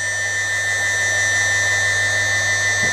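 A 2.2 kW Chinese CNC spindle spins steadily at 6000 rpm, giving a continuous high-pitched whine over a low electrical hum, loud and unbroken throughout.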